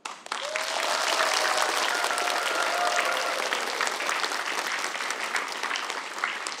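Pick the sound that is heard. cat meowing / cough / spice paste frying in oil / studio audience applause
studio audience applause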